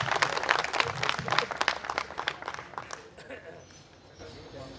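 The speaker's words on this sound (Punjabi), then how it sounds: "ਜ਼ੋਰਦਾਰ ਤਾਲੀਆਂ ਨਾਲ ਇਹਨਾਂ ਦਾ ਸਵਾਗਤ ਕੀਤਾ ਜਾਏ।" Applause from a crowd welcoming a newcomer at a political rally on stage, a dense burst of clapping that is loud at first and then fades away over a few seconds, mixed with some voices.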